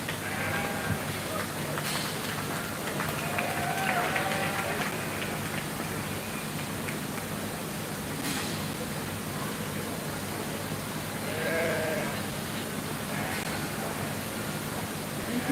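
Sheep bleating at a county fair 4-H and FFA sheep show, a few scattered calls at moderate distance over a steady hiss of crowd and hall noise.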